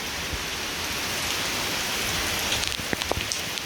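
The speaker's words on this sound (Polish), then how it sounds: "wygląda ulewa w Chorwacji" Heavy nighttime downpour in Croatia, a dense, steady hiss of rain pounding surfaces throughout, with a few sharper drip and splash accents near the end.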